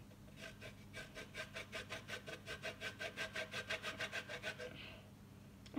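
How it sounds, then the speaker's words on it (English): Lemon zest scraped on a grater in a quick, steady run of rhythmic rasping strokes, close and fairly quiet, for about four seconds before stopping. "I think this is the side that you grate the lemon zest on."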